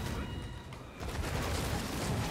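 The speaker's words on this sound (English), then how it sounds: "Mortars." Mortar fire rumbles through a busy battle in the action game Remnant, a loud, continuous wash of booms and blasts that swells after a brief dip.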